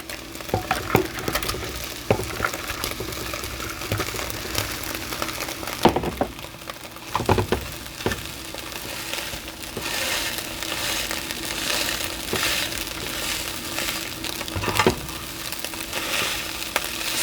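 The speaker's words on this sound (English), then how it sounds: "Now it's time to add the rice." Rice for pineapple fried rice with shrimp and bacon sizzles and crackles in a hot pan, with steady frying hiss and intermittent scraping and stirring clatter of a utensil, close and continuous.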